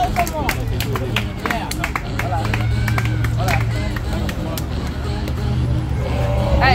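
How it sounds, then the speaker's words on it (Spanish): Crowd at a Red Bull 2vs2 rap battle event applauding and cheering, dense clapping and hubbub running throughout, with a host talking over it. "Ahí está, un fuerte aplauso."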